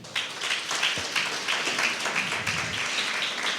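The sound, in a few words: congregation clapping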